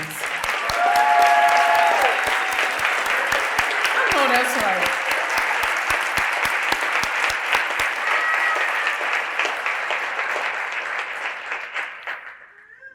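Audience applauds students at a spring scholars-in-residence program, a dense, sustained round lasting about twelve seconds before tapering off, with a voice speaking over it partway through.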